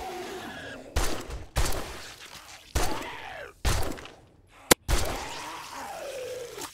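Sharp gunshots crack one at a time while zombies are fought in 7 Days to Die, five or six loud separate blasts spaced about a second apart, with groaning undead sounds between them.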